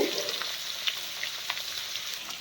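Onions and curry leaves sizzle in hot oil in a pan, an even, moderately loud crackling hiss with small pops and scattered utensil ticks throughout, no voices.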